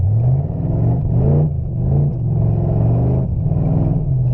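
A cheap, worn Lincoln Town Car driven hard on back roads, its engine rumbling up through the revs in repeated surges and dips, close and loud.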